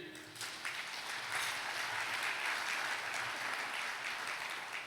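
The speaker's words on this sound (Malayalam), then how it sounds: "ഒന്ന് കൈയടിച്ച്." An audience at a church prayer gathering claps hands in sustained applause, a dense steady patter from many people heard at some distance, fairly faint and continuing throughout without any talking.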